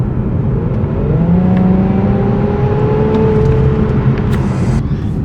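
Japanese sports car accelerating hard, a loud continuous engine note with rising harmonics as it pulls through the revs, heard from inside the car with no talk.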